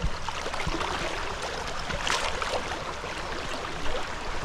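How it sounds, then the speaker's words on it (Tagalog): Strong river current rushing past at close range, a steady broadband wash of flowing water with faint gurgles, continuous and unbroken. "Malakas ng agos oh."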